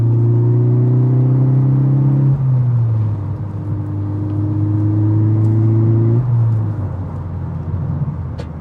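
A stage 1 tuned, turbocharged VW Golf R, around 320 bhp, revs loudly under acceleration. Its steady engine drone and whir rises in pitch, drops at each gear change, then climbs again.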